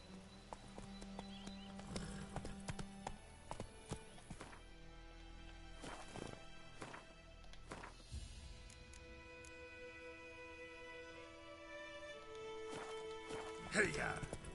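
The horse Roach trots in the video game The Witcher 3, its hooves clip-clopping rhythmically alongside game music, tonal effects and voices speaking.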